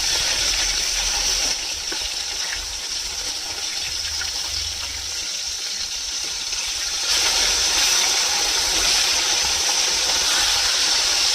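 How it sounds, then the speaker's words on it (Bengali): Pieces of bata fish frying lightly in oil in a pan, a loud continuous hissing sizzle that swells slightly toward the end, heard alone without talk. "বেশি কড়া করে ভাজবো না হালকা করে মাছগুলোকে ভেজে নেব"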